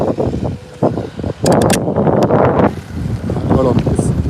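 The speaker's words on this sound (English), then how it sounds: "It's very windy" Strong gusty wind buffets an outdoor microphone in a boating setting, a loud continuous roar rising and falling in bursts, with a person talking underneath.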